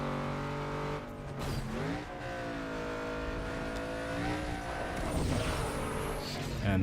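A race car engine revs hard in the Need for Speed: Underground 2 racing game, rising and falling through gear changes, loud and continuous, with a voice talking faintly underneath.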